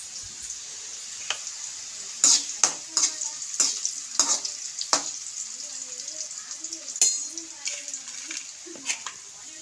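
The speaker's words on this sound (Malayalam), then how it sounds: "ഉപ്പ് മഞ്ഞപ്പൊടി ഇട്ട് ഇളക്കി വെച്ചിട്ട് എണ്ണയ്ക്കകത്ത് വറുത്ത് കോരി എടുക്കും" Bitter gourd tossed with salt and turmeric fries in hot oil, a steady sizzle broken by sharp scraping stirs, while someone talks over it.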